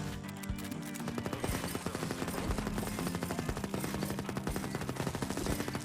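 A lightning tommy gun fires nonstop at swarms of enemies in the roguelite shooter Erosion, a dense, rapid stream of gunshots and impacts with layered game effects, loud and continuous throughout.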